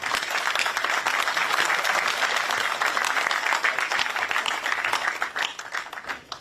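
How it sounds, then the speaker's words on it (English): A crowd gives a steady round of applause at the close of an announcement at the Paris Air Show, a dense, sustained patter of many hands clapping that thins slightly toward the end. "A round of applause."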